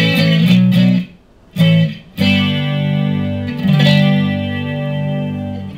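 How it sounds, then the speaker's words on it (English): A clean guitar through a Marshall Code 50 amp's acoustic preset with shimmering chorus plays chords and short picked phrases, sustained notes ringing out with a brief pause between strums. "This acoustic with a little chorus."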